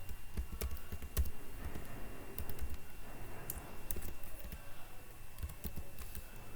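Rapid keystrokes on a computer keyboard while code is entered for a digital read routine, a close, steady patter of clicks alone without any voice.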